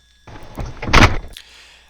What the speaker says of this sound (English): We gotta get the door closed, main passenger door.